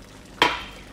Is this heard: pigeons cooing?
no